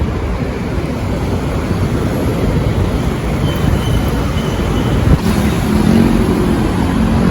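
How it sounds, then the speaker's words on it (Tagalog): An MRT-3 train passing on EDSA near North Avenue in Quezon City, a loud steady rumble with roaring traffic mixed in and a slight swell toward the end. "Ayan po ang MRT3. Pupunta po yan sa common station."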